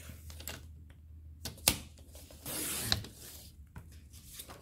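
A paper strip for a scrapbook album is cut in a quiet room: a few crisp clicks and snips, one brief sliding rasp of the blade through the paper, then light handling noises.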